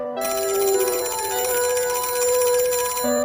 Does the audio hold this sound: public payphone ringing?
yes